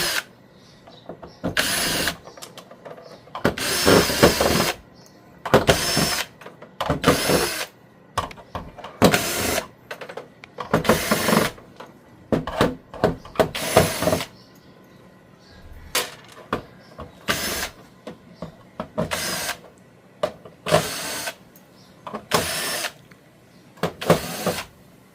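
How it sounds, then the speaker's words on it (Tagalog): Screws are being taken out of the back cover of a Haier 49-inch LED TV, with bursts of power-driver whirring between quieter handling noises, close and fairly loud, repeating many times with short pauses. "So mag-remove muna tayo ng mga screw. Tanggalin muna natin yung pinaka-back cover na to."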